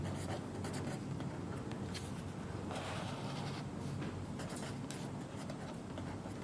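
Pen scratching out a handwritten math solution during a first-year math class exercise, a steady, fairly faint scribbling with short strokes over a constant background hiss, no speech.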